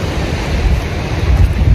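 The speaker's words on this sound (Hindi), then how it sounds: "साढ़े 2 पत्थर से पानी गिर रहा, वाटरफॉल बन गई" Small waterfall spilling over a few rocks in a mountain valley, giving a loud, close, continuous rushing wash of water with no voices.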